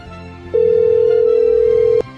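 A telephone ringback tone during an outgoing call: one steady, loud single-pitched beep lasting about a second and a half, over faint background noise with no talk.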